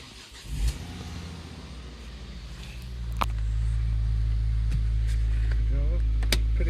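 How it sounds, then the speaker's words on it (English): A Ford Focus engine starts up inside a garage, a short crank and catch followed by a steady, building idle as the car begins to back out, with someone speaking over it. "I'll just crack the car up. Just back it out the garage."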